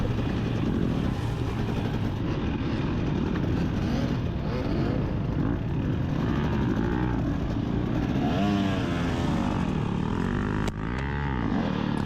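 A dirt bike engine in the 2024 GNCC Round 3 off-road race, bogged down with its rear tire spinning, drones continuously and up close, swelling into rising revs toward the end.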